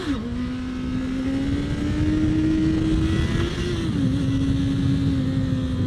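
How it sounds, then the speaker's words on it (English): A 2019 Honda CB650R motorcycle engine holds a steady, loud drone close by while the front wheel lifts in a wheelie, its pitch rising slowly and then dipping briefly before settling. No one speaks. "I just wanted to kind of show you that yes, this bike can do wheelies"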